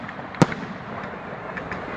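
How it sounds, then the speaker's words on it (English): Firework bursts at the Lyme Valley display, one sharp loud boom near the start followed by faint crackles and a low outdoor hum, with no speech. "watching the fireworks? How cool is that?"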